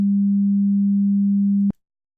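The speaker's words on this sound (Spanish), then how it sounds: "Te voy a mostrar cómo suena un tono puro." A steady pure 200 Hz sine tone hums evenly and loud for under two seconds, then cuts off abruptly with a small click, leaving silence.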